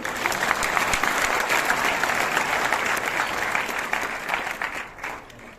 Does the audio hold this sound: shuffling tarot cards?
no